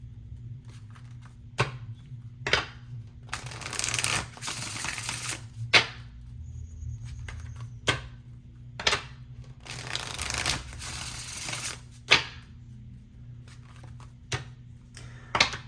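Oracle cards being shuffled in a series of crisp riffling bursts and sharp slaps, close and fairly loud over a steady low hum, with brief pauses between shuffles.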